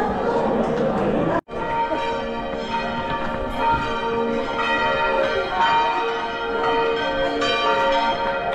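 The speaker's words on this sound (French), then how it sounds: "on met les cloches" Church bells of Notre-Dame de Rocamadour ring out loudly and continuously before a trail race start, layered peals with a crowd murmuring underneath and a brief cut early on.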